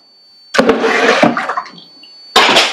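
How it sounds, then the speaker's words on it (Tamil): Water rushes and splashes as it is filled into a planted aquarium tank, a loud, close gushing that fades to a trickle before surging again. "ரெஸ்ட் ஆஃப் த டேங்க் வந்து ப்ரோ தண்ணி ஃபில் பண்ணிட்டு இருக்காரு."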